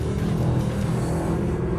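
Mercedes SLS AMG Black Series, a 630-horsepower car, drifting round a long corner, its engine a loud, steady, rumbling roar held close and continuous, with no talking.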